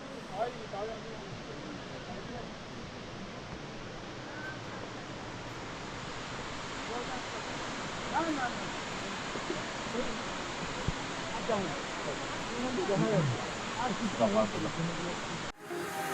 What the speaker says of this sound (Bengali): ঝর্ণার জল, তার শব্দ প্রকট হয়ে উঠছে।